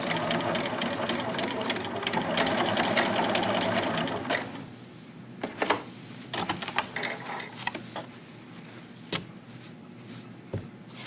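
A sewing machine stitches a zipper bag steadily for several seconds with the presser foot down, then stops, leaving scattered clicks and handling noises.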